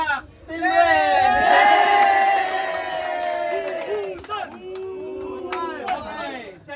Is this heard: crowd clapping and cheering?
yes